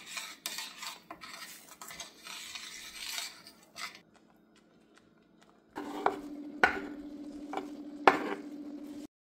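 Chopped spinach is stirred into an oily pan with clattering utensil scrapes and metal clinks, a busy stretch followed by a pause and then sharper spoon strikes against the pan.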